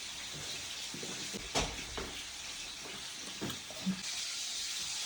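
Steady frying sizzle with a broad hiss of small crucian carp frying in a pan, a few soft clatters and scrapes, no talking.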